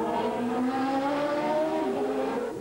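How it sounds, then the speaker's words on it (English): A Dallara Formula One car with a Ford DFR engine screams past at high revs, its pitch sliding down as it goes by, loud and close with no talking. "Again, this car powered by the Ford DFR engine."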